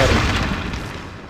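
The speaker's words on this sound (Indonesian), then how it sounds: "Meledak." A single loud, deep boom from an explosion in Resident Evil 4, played on the Dolphin emulator, fades out over about a second, no voices present.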